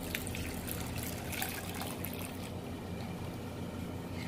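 Half a litre of water poured into a container while making coconut detergent, a steady hissing trickle that runs continuously and fades slightly toward the end, with no talking.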